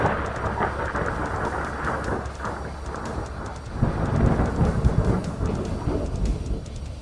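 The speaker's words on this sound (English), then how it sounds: "As lightning struck the ring," A lightning strike and rolling thunder in a fantasy audio drama: a steady broadband rumble that swells into a louder, crackling burst midway, then settles back to a sustained roar, with no voices.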